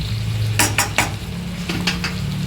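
Fenugreek leaf curry being stirred in a pan, with a spoon clattering against the metal in a few sharp bursts over a faint, steady sizzle of frying.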